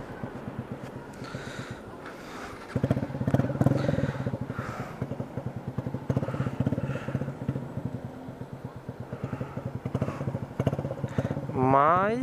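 A black Next motorcycle passes on a city street near Luz station, its engine audible as a steady rumble that swells midway and lingers under ongoing talk.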